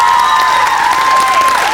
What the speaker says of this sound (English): Big round of applause for Alison.